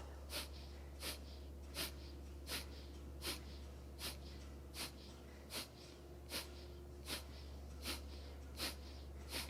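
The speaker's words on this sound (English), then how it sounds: "Kapalabhati is a strong, intentional, conscious exhalation breath." Kapalabhati breathing: a person gives sharp, forceful exhalations through the nose in a steady, evenly spaced rhythm, about one and a half per second, close and soft against a low background hum.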